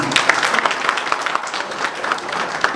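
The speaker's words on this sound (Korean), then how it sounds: "다시 한번 큰 박수 부탁드립니다." Applause from the audience at a debate for Suwon mayoral candidates, hosted by the Suwon merchants' association, fills the room. Dense, steady clapping carries on for a few seconds with a crowd feel and a few louder claps standing out.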